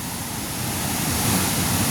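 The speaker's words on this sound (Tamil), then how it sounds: "2 வான்கதவும் 3 அடி திறந்து விட்டுருக்கு. கிட்டத்தட்ட 6 அடி தண்ணி போகுது." Rainwater gushes through two open reservoir spillway gates raised about three feet in a village, making a constant loud, close roar of rushing water with no breaks.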